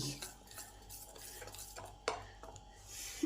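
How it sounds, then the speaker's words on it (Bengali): Batter made from pea pods being mixed in a bowl, soft quiet scraping and stirring with a few light clinks of a spoon against the side, faint and close. "এবার এইটাকে ভালো করে এই ব্যাটারের মধ্যে মিশিয়ে দিই"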